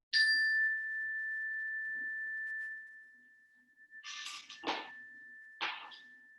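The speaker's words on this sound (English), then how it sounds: "I like to begin with the sound of the bell" A single bell struck at the start of a yoga session rings out clear and bright, its tone hanging and slowly fading, followed by a few soft knocks and rustles as the ringing dies away.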